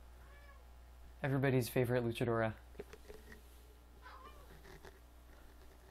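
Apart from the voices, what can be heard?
cat meowing and purring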